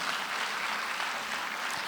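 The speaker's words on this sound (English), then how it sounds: "I think you should give them a better round of applause." An audience at a women's business event gives a round of applause, a steady wash of clapping heard at moderate distance, fairly soft and unbroken for a couple of seconds.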